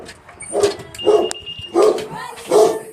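A dog barks four times in a steady, evenly spaced series, loud and close, with no talking over it.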